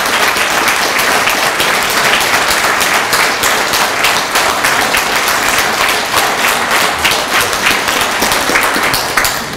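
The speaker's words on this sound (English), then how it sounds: "a round of applause for the life that he lived" A congregation gives a standing ovation at a celebration-of-life memorial service, producing loud, dense, sustained applause that fills the room without a break.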